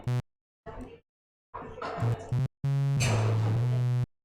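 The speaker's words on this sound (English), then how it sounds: "make a cool bass with sine wave" A synthesizer bass in Studio One 6, built from a sine wave oscillator with a much lower saw wave second oscillator, plays short, deep tonal notes in separate bursts, with gaps of silence, ending on a longer sustained low note.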